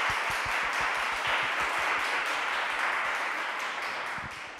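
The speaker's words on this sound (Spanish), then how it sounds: "Por favor, un gran aplauso para Christy" Steady applause from an audience at a school show in Spain, a dense wash of clapping that holds evenly throughout and only begins to thin at the very end.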